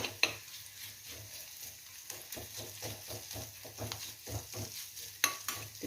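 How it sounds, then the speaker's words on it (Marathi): Roasted coconut masala paste fries in oil as a spoon stirs it in a pan, giving a soft sizzle broken by repeated scraping strokes and a few sharp clinks against the metal, close up and without speech. "तेलात जरासं परतून घेते वाटण"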